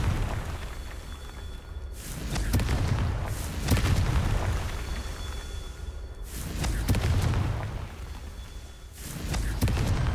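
Confringo spell blasts in Hogwarts Legacy, cast during a Merlin trial, land as several heavy booms a couple of seconds apart over a dense rumbling wash, loud and close with no talk.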